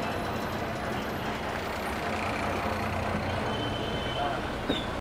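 An MSRTC ST bus on the Borivali–Kudal run idles at a busy ST bus depot, with a constant low engine rumble and surrounding traffic. A brief air-brake hiss comes near the end.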